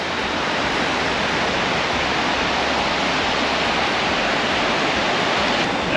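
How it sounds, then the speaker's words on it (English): Waves crash over a big rocky shoal off the beach at Selkirk Provincial Park in Ontario, a loud, steady, unbroken roar of surf with no talking. "There is a big rocky shoal that goes out here, and some of the waves are even crashing over it and coming up"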